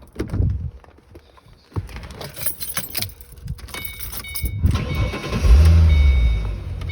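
Keys jangle near a 2005-2014 Ford Mustang V6 before its engine cranks, catches and settles into a low, steady idle that grows louder toward the end.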